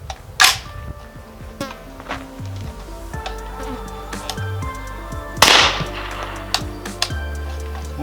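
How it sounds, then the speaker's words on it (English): Two sharp cracks from a Daniel Defense ISR Gen 2 integrally suppressed rifle firing 220-grain subsonic 300 Blackout rounds at an armor plate, a few seconds apart, each followed by lingering metallic ringing. "we're shooting this out of my Daniel Defense ISR Gen 2 integral suppressed."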